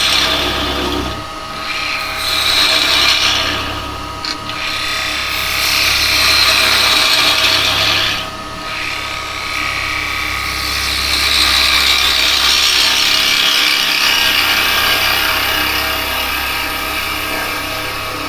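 A woodturning lathe cutting yew wood, with a steady loud scraping, rasping hiss and a constant motor hum running through the whole stretch, close and uninterrupted, no talk.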